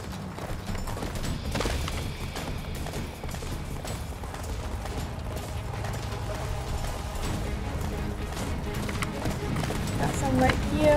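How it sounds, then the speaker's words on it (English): Horse galloping in the Attack on Titan video game: rapid, continuous hoofbeats close up under busy game noise, with a faint whinny, building slightly louder toward the end. "I just exhausted my horse."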